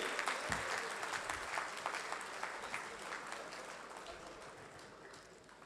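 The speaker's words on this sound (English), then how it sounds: "A big round of applause once again." Audience at a members' meeting applauding, with a soft, fairly distant wash of clapping and a few crisp claps at first, gradually fading over several seconds.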